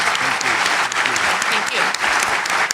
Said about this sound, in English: I'd like us all to give a warm round of applause for our panelists.